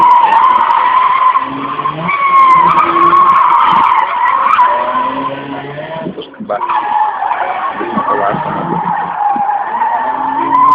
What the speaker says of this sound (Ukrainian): автомобіль власного виробництва університета Олександра.